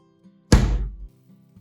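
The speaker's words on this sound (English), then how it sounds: "Then place the tray in the freezer." An ice cube tray of chopped spring onion in oil set down in a freezer: a single close, dull thunk with a brief hollow rumble, then quiet.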